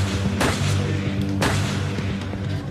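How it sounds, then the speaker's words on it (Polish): Gunfire from a shooter firing downward during a massacre in Norway: two sharp, loud bangs about a second apart, each followed by a ringing, rumbling decay, with no talking. "Strzelał w dół."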